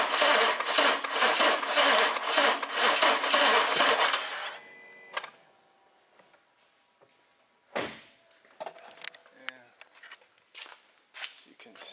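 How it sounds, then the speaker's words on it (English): A BMW N63 V8 in a 2014 BMW 650 with timing codes cranks roughly for about four seconds, a loud rapid pulsing churn, then cuts off, leaving scattered clicks and shop clatter. "It even sounds terrible when cranking."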